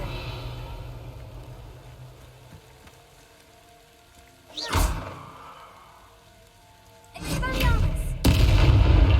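Revelio spell in Hogwarts Legacy: a swelling whoosh, then a shimmering magical sweep and resonant boom rising loud near the end over low game ambience.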